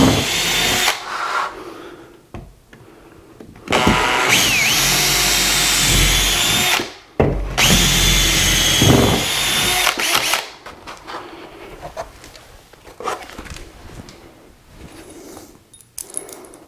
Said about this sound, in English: Now we can drill our last two holes